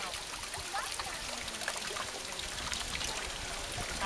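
Water runs and trickles steadily outdoors while a child rinses a chestnut under it. The flow is close and continuous, with brief splashes, and adult voices can be heard faintly now and then.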